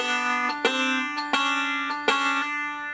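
Banjo picking with index and middle fingers pinching together, a repeated pattern of bright plucked chords struck in several sharp attacks that ring and sustain between them, close and alone.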